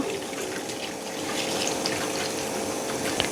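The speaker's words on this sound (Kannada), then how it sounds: "ಹಾಗೆ ಬೇಯಲಿಕ್ಕೆ ಎಷ್ಟು ನೀರು ಬೇಕು ಅಷ್ಟು ನೀರು" Water pours into a pot of raw banana pieces, salt, curry leaves and oil for cooking, a steady close splashing gush that runs continuously with no speech.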